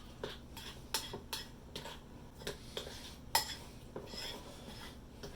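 Egg yolks mashed with a utensil in a bowl for deviled eggs with bacon, giving a run of close, soft scraping and clinking taps at an irregular pace, with a sharper clink now and then.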